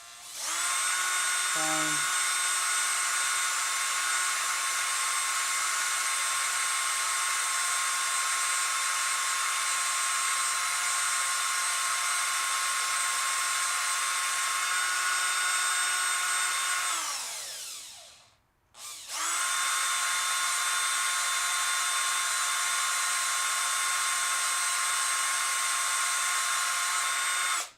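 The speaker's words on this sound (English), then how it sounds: "So if I just drill all the way in" A power drill whines at a steady high pitch while boring into a metal Hot Wheels toy car, holding for long stretches, then winding down, stopping briefly and spinning back up; a voice briefly speaks.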